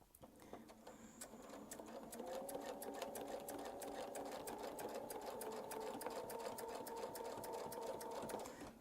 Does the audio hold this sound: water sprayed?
no